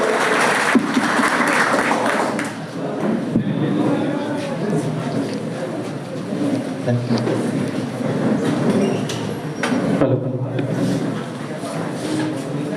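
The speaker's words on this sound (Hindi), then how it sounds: "जोरदार तालियों से स्वागत" Audience at a one-day Common Service Centre workshop in Banka clapping to welcome a guest, a sustained dense wash of applause filling the room throughout, with a speaking voice mixed in.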